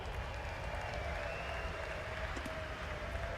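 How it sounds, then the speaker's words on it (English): A flat track motorcycle racing crowd applauding a heat race winner, a steady dense wash of distant clapping and crowd noise throughout, with a faint engine-like drone underneath. "how about a nice round of applause for Brandon Wilhelm?"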